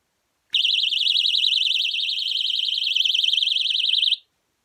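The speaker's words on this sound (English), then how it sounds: "That's a little personal alarm." A small AliExpress personal alarm emits a loud, piercing warbling electronic siren that holds steady for about three and a half seconds, then cuts off abruptly, with no voices.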